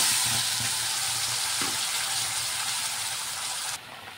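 Spices frying in hot oil in a pan for a Bengali fish curry, a steady loud sizzle throughout that drops sharply near the end, with no talk.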